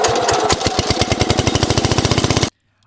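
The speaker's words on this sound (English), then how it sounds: "we're going to take a closer look at our 2000 RPM 5-foot Category 0 flail mower made by Mott Manufacturing from the mid-1970s" A mid-1970s Mott 2000 RPM five-foot Category 0 flail mower on a Simplicity Power Max tractor runs loud and close, a rapid rhythmic chopping clatter that cuts off abruptly into silence.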